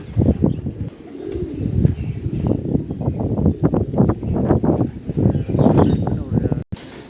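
Tournament racing pigeons let out into the open give close, low, throaty coos in a dense stream of pulses, with a voice nearby.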